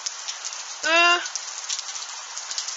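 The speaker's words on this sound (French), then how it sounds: "Le bruit de grosse pluie ou de grêle se rapproche encore là." Moderate hail showers fall with a dense, constant hiss in Tour-en-Sologne, France; a voice briefly sounds once over it.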